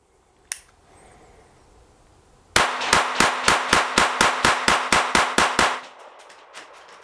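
A KelTec CP33 .22LR pistol fires one lone crack, then after a pause empties its magazine in a quick, steady run of about a dozen loud, sharp shots outdoors on a sunny day, followed by faint ringing quiet.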